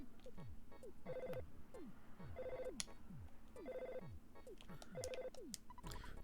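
A telephone rings in the video game Earthbound with a repeated electronic ringtone. Bursts come at a steady rhythm over looping game music, fairly quiet, with no voices.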